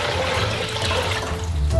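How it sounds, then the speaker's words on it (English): Water runs steadily from a tap into a steamer pot in a street-food kitchen, a continuous close hiss and gurgle of filling with no talk over it. "We need a steamer. Let's fill it with water."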